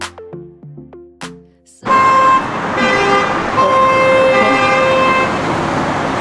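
Car horns honking on a street in Spain: a few short toots at first, then a loud sustained blare of several horns layered together that keeps going to the end.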